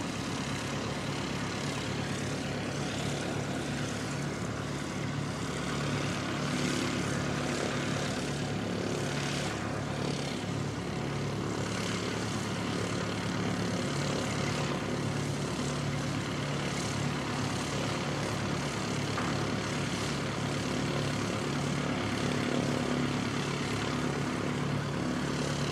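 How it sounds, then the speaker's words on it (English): An ATR turboprop airliner flying in from Wellington approaches to land at Christchurch airport in New Zealand, its propeller and engine roar steady and fairly loud for the whole stretch, with no talk. "May as well quickly grab this ATR that's coming in."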